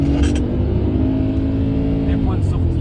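Porsche Cayenne SUV on a lap of the Mirecourt race circuit, its engine a steady, loud drone with cabin rumble throughout, while people inside talk over it.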